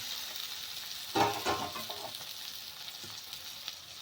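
Jackfruit curry with potatoes sautéing in a pan, a soft continuous sizzle with a brief burst of stirring and spoon clatter, fairly quiet and without speech.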